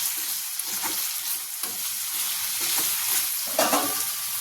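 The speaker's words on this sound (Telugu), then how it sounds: "ఇలా కలుపుకుంటూ చిక్కుడుకాయలు మంచిగా ఫ్రై చేసుకుంటే కొంచెం పచ్చి వాసన ఉంటుంది కదండి, అది పోతుంది" Flat beans (chikkudukaya) stir-fried in a pan with salt and curry leaves, a gentle sizzle under occasional soft scraping stirs, close and fairly quiet, with no speech.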